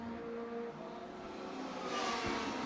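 BMW touring race cars on a circuit in Riga, heard as a faint, distant engine drone that swells slightly as they pass, no voices over it.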